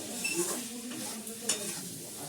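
Boiled potatoes with fenugreek leaves being stirred in a dry pan, a continuous scraping stir with soft sizzling and a couple of brief louder scrapes, close and steady with no talking.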